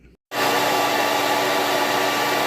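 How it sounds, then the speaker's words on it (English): A hair dryer blowing into a box while restoring a Wells-Gardner K7000 arcade monitor chassis, switching on after a brief quiet moment and then roaring steadily and loudly with a broad, even whoosh. "Hair dryer"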